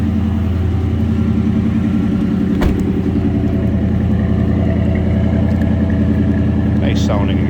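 A 2012 Dodge Challenger R/T with a 5.7-liter V8 idles from behind, its exhaust giving a loud, steady, deep rumble throughout with one brief sharp knock partway through.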